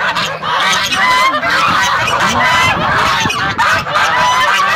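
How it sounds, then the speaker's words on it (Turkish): A flock of geese honks loudly and continuously, many overlapping calls close by, with a faint voice briefly speaking underneath. "Ördekler, kazlar."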